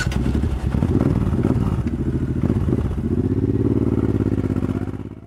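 A big motorcycle with a giant fuel tank runs with a loud, steady, deep engine rumble and throb, close by, for the whole stretch with no talk.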